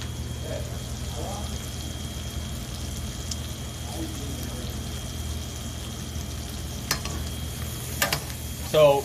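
Brussels sprouts frying in bacon fat give a steady close sizzle, with a few brief scrapes and clatters of stirring near the end.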